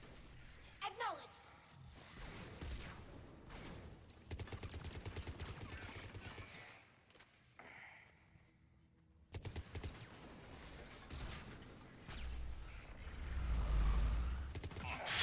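Heavy gunfire from a big gun in a Mass Effect 3 battle, heard as bursts of loud shots and crashes scattered across the scene amid combat noise, with voices talking between the blasts.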